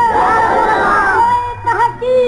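A large gathering of listeners at an Urdu religious sermon raises a loud, sustained collective shout that swells and holds for about a second and a half, with a brief voice breaking through near the end.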